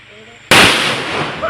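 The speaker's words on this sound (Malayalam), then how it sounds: "പടക്കം പൊട്ടി" A single loud firecracker bang bursts suddenly in someone's hand, followed by a long rumbling, crackling roar that slowly fades.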